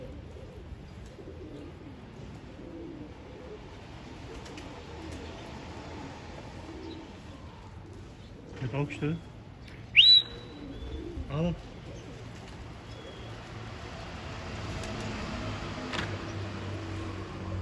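Dolapçı pigeons in a coop give soft, low cooing calls amid quiet background, with a few brief louder knocks and chirps midway and someone speaking briefly.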